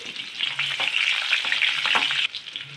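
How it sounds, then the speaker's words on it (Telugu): Dried red chillies and garlic cloves frying in hot oil in a kadai, a steady loud crackling sizzle throughout with occasional stirring, no voices. "హీట్ అయ్యాక అందులోకి ఎండుమిర్చి, వెల్లుల్లిపాయలు,"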